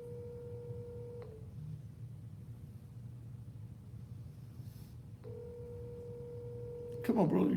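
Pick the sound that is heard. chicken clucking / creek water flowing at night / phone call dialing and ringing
phone call dialing and ringing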